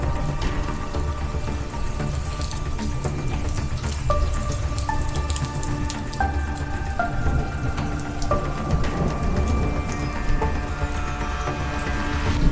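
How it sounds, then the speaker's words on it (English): A storm pours rain with small hail over a natural garden homestead: a steady, close, dense hiss of drops on surfaces, without pause, and no distinct thunder. "There is hail, but luckily only small ones"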